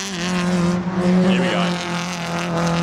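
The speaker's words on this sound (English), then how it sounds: "So they are almost flat out through this turn 1 here." Excel Cup race cars taking a corner almost flat out, with a loud, steady engine drone that rises slightly in pitch and a brief tyre squeal in the middle, while a voice talks over it.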